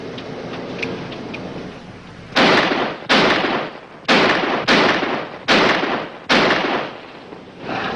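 A handgun emptied into the ground, six loud, evenly spaced gunshots, each with a short booming decay, following a few seconds of quieter background.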